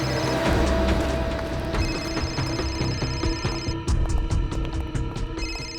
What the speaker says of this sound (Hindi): फोन तो यहीं पे बज रहा था ना